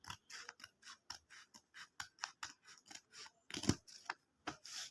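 Scissors snipping straight through craft paper, a quick run of about twenty crisp, close cuts in an uneven rhythm with no talk.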